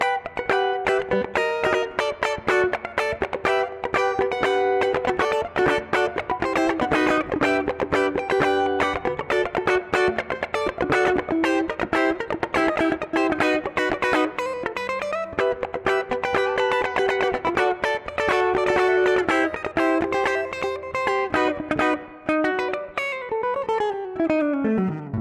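Electric guitar played through an Ibanez Jiva distortion pedal, a continuous stream of heavily distorted chords and riffs at steady loud level, ending with a descending bend as the notes fade.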